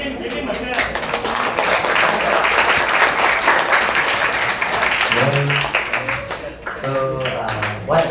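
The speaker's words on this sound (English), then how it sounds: "Give him a clap." A lecture audience applauds, dense clapping filling most of the stretch before thinning out, with a voice speaking over the tail end.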